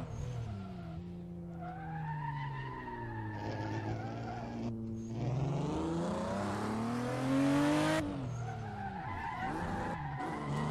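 A Toyota Supra in the Assetto Corsa racing game skids under the e-brake, with tires squealing and the engine droning and revving in shifting pitch, loud and continuous, no talk.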